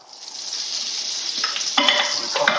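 A spoon stirs flour into chicken pot pie filling frying in a pan with salt, pepper and garlic, giving soft close scraping strokes over a faint steady sizzle.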